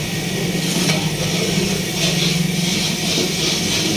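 Ginger, garlic and green chili paste sizzling and frying loudly in a pan while tomatoes cook, a steady crackling hiss with occasional stirring scrapes, no voices.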